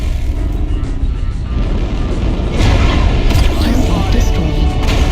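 An enemy mech destroyed in MechWarrior Online: loud continuous booming and rumbling combat noise that intensifies midway with a heavier explosive surge, no speech over it.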